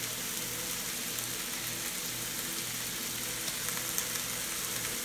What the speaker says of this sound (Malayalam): അപ്പോൾ ഇത് നന്നായി ഒന്ന് വഴണ്ട് വരുന്നത് വരെ, നന്നായി ബ്രൗൺ കളറായി വരുന്ന വരെ നമ്മളൊന്ന് വഴറ്റി കൊടുക്കണം.